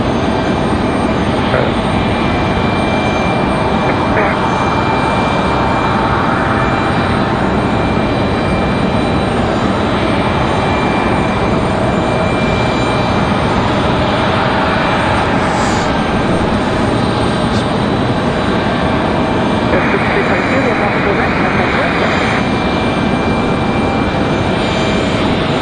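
An American Airlines jet in old-school chrome livery at Raleigh-Durham airport gives off a steady, loud engine roar and rumble that holds throughout without a break.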